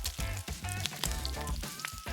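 Leftover kimbap coated and pan-frying slowly at medium heat in a frying pan, a soft, quiet sizzle and crackle with light spattering pops throughout.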